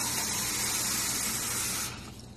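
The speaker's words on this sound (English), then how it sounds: "let's go ahead and add some water right now to the tumbler" Water pours from a tap into a rock tumbler barrel over rocks, a steady bright splashing gush that holds for about two seconds and then tapers off as the flow stops.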